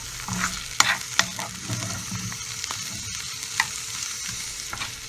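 Food frying in a pan for an Egyptian dish, a steady sizzle with scattered stirring clicks and scrapes, close and continuous with no talking.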